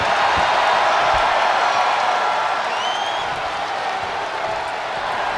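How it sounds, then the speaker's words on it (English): Arena crowd noise in a WWE 2K 2008 wrestling game, a steady broad roar of cheering for Kane at a German venue, loud and continuous throughout with faint higher whistles or whoops. "Kane getting a little bit of love from the crowd in Germany here."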